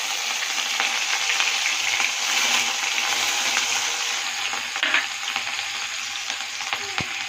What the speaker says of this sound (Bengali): এবার লঙ্কাটা আর আদাটা দিয়ে দেবো তেলের মধ্যে